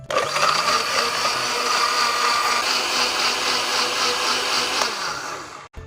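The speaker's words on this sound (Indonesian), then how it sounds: "Langsung saja kita haluskan menggunakan blender." An electric blender whirs loudly and steadily for several seconds as it purees shallots with about half a litre of water, then cuts off abruptly at the end.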